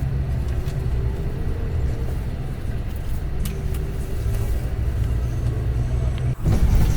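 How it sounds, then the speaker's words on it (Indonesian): Steady loud low rumble from inside a Scania K410 coach bus travelling fast on the road between Banda Aceh and Medan, with constant engine and road noise, a faint whine and a brief bump near the end, no talk. "ini sebenarnya kendaraan melaju dengan cepat ya, tapi karena pembawaannya sangat nyaman, ya kita tidak terasa apa-apa di dalam"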